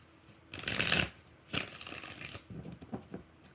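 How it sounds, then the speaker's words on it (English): Tarot cards are shuffled by hand in a few crisp, riffling bursts separated by short pauses, close and fairly quiet, with no speech. "Five shuffles."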